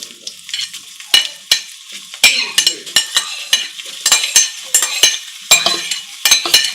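Onions frying in about a quarter litre of oil in a pan, crackling sizzle with frequent sharp utensil scrapes and clinks in an irregular rhythm, close and loud, no speech.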